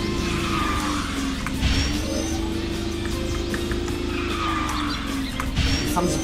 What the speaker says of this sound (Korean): 자, 드리프트 감속 볼게요.